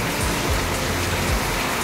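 Hard rain falls in a dense, steady roar of drops on surfaces, loud and near, continuing without a break and with no voices over it.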